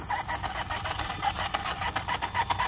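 An overheating Arrma Infraction RC car with a Max 6 motor is held at low throttle. Its motor gives a rapid, pulsing, stuttering whine that repeats evenly and stays close and fairly loud throughout.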